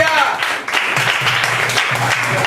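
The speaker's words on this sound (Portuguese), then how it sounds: "Se assente aplaudindo o Senhor Jesus" Congregation in a church clapping for Jesus, a dense burst of applause that runs through the whole stretch with voices and a low sung or spoken tone mixed in.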